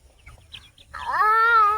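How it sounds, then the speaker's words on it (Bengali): Chickens gathering close, with soft faint sounds followed by one drawn-out, clear, tonal hen call that holds steady for nearly a second, alone without talk. "সব মুরগিগুলো তোর কাছে এবার চলে আসছে দেখছি"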